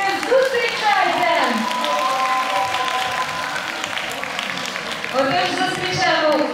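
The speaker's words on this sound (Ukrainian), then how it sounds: "Ваші вертливі оплески, зустрічайте!" An audience at a festival concert gives steady, sustained applause to welcome performing groups onto the stage, while an announcer's voice talks over the clapping.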